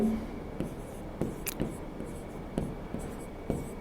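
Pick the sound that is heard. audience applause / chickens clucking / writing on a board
writing on a board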